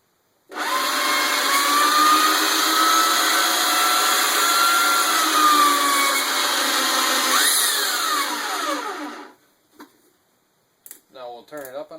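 Chicago Electric portable band saw (Northern Industrial 56245) running steadily at its lowest speed setting, a close, loud whir with a whining tone for about nine seconds before cutting off, followed by brief clicks and talk.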